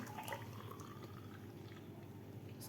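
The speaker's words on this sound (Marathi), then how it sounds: "इथे एक ग्लास घेतलेला आहे यामध्ये आपण ज्यूस सर्व करून घेऊया" Orange juice poured from a container into a glass, a soft steady trickle and splash running close and continuous throughout.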